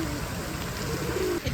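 Low, soft cooing of pigeons in Jephson Park, Leamington Spa, drifts beneath steady outdoor noise and faint background voices.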